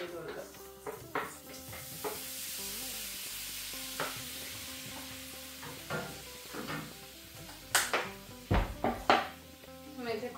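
Ingredients fry and get stirred in a pan in a home kitchen during lunch preparation. A steady sizzle carries through, with scraping stirs and the clatter of utensils on cookware, while someone talks over it.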